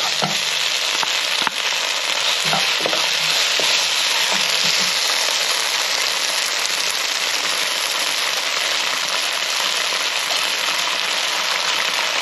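Crab stir-frying in chilli oyster sauce in a hot pan, making a loud, dense, unbroken sizzle with a few faint clanks of utensils, close up with no talking.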